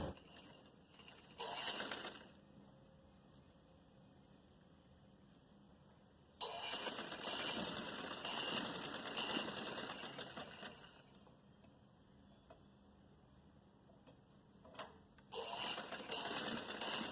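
A sewing machine stitches a narrow salwar in short bursts: a brief run near the start, a longer steady whirring stretch in the middle, then another short run at the end, with quiet pauses between.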